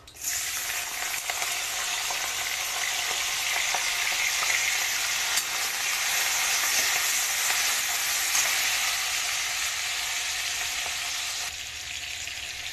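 Shrimp fry in hot oil with black cumin seeds in a kadai, giving a loud, dense, unbroken sizzle that holds steady for the whole stretch with no voices.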